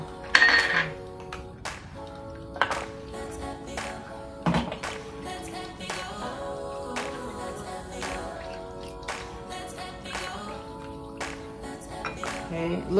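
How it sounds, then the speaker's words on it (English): Spoon stirring bread dough ingredients with salt and vegetable oil in a bowl, irregular clinks and taps against the bowl over a faint background hum, close by and without speech. "next it says to add salt and vegetable oil and stir well"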